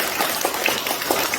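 Applause from a seated audience at a Korean commemorative society founding meeting, a dense, steady patter of many hands clapping at moderate distance, continuous and even throughout without voices.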